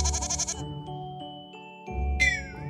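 A goat gives a short bleat amid a bright jingling children's-song backing, moderately loud and close, with a second rising call near the end.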